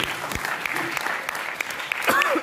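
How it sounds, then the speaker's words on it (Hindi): Scattered, fairly sparse hand claps from an audience rewarding a short muktak recited at a Hindi poetry gathering, the clapping moderately quiet and steady, with a brief voice rising near the end. "एक अच्छे मुक्तक के लिए थोड़ी तालियां दीजिए एक बार जी।"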